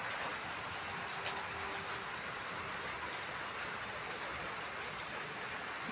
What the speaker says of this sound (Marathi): सकाळ धरून खूप पाऊस येतोय